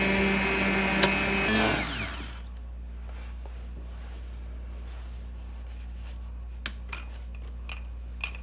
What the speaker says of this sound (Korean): 그래서 저는 블렌드를 사용해서 좀 갈아주도록 하겠습니다.